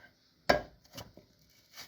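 Potatoes are sliced very thin for a gratin, giving three quiet, separate crisp cuts spaced apart, the first the sharpest.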